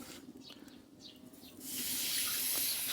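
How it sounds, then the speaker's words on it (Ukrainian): Water poured into a hot smoker while bream is being smoked, a soft hiss and trickle that swells into a steady rushing spray in the second half, following quieter light clatter. "Тепер закриваємо кришечкою, заливаємо водичкою."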